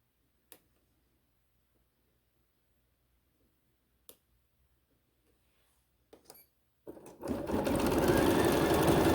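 Bernina 790 Pro quilting machine stitching tiny quilting stitches in the hoop, a few soft clicks first, then a loud, rapid steady whir starting near the end.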